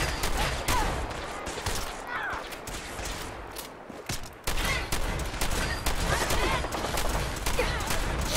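Rapid gunfire from Fallout 4 combat with Liberty Prime, dense bursts and volleys sounding continuously over about eight seconds, loud and busy, with a brief dip midway before the shooting resumes.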